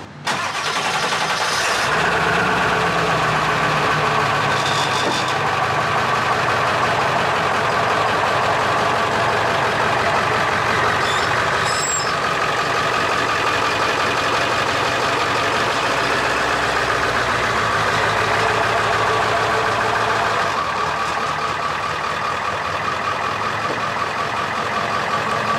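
A diesel van engine idles steadily and close by, a continuous low rumble that runs throughout while the vehicle backs up slowly, with a brief shift in tone partway through and no speech.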